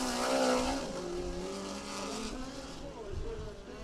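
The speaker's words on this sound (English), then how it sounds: "Here comes Cade Morton from Coweta, working through 3 and 4." A USAC National Midget race car laps a dirt track, its engine a loud sustained drone that shifts pitch through the turns, with an announcer talking over it.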